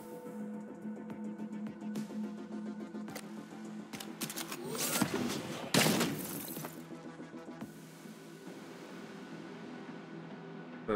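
Sniper shots ring out in Tenebris: Terra Incognito, a handful of sharp cracks spread over a quiet background, with the loudest burst near the middle.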